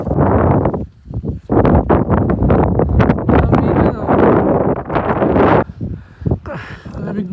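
Strong gusts of wind buffet the microphone on a mountain peak at Pump Peak, Mt. Seymour, roaring in uneven surges and lulls at close range; voices may be mixed in under the noise.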